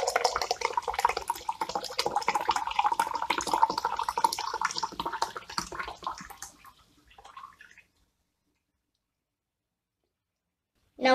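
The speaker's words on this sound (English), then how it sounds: "Now pour the soda into the glass." Soda pours into a glass prepared with sugar syrup and salt, a steady close fizzing splash that runs for several seconds, thins into a sputter and stops, with a brief clatter at the very end.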